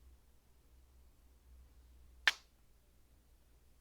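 A single crisp finger snap rings out once, sharp and close, against a quiet room.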